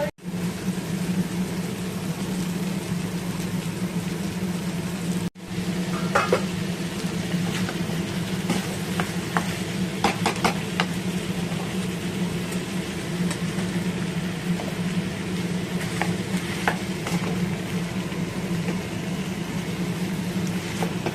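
Fish head curry with green chillies frying in a pan: a steady, close sizzle over a low hum, broken by a few clattering scrapes of stirring, with no talk.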